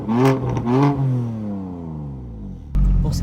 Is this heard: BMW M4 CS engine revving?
yes